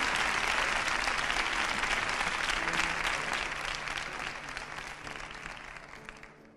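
Sustained audience applause in the Nissan Cartuja auditorium for a San Valentín concert, a dense wash of clapping that holds strong, then gradually fades toward the end.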